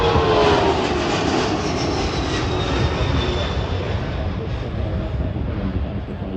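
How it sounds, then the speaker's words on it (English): A military jet roar washes over an airshow crowd as a Globemaster passes and a C-130J Hercules makes a short tactical takeoff, a loud sustained engine drone with a slowly sweeping whine. "So what we'll see is a short tactical takeoff from the C-130J Hercules after a pass overhead from the Globemaster."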